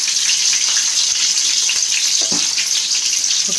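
Green chillies and salt sizzle loudly in a hot frying pan, a dense, steady crackling hiss with a few stirring scrapes near the end, close and continuous.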